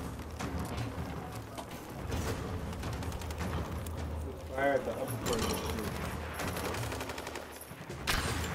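Bursts of rapid gunfire rattle through a dense, busy soundscape in the video game Rise of the Tomb Raider, with a few sharper volleys standing out near the end, and a voice talking throughout.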